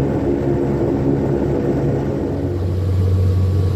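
Steady low engine drone inside an airplane cabin on a 45-minute flight to Burnie Airport in Tasmania, a constant broadband hum with a deeper tone swelling near the end, no voices.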